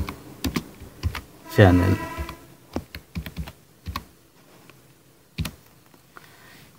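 Close, brisk clatter of typing on a computer keyboard in short bursts, with a voice speaking briefly over the keystrokes.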